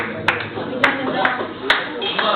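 Claps ring out about four times at roughly even intervals, sharp and close, over a busy background of music and chatter at a singing gathering.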